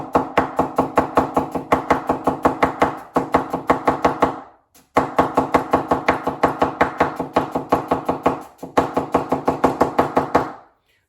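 Knife thinly slicing an onion on a cutting board for a vegetarian pizza, a fast, steady run of crisp close chops in three bursts separated by brief pauses.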